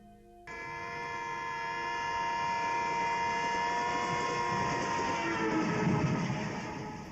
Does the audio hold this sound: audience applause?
no